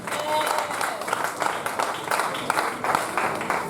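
A congregation applauds and claps in rhythmic bursts during a church service on prayer, a dense, fairly close crowd sound with voices mixed in.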